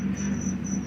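Crickets chirping in a steady, continuous trill, close and fairly loud, with no talk over them.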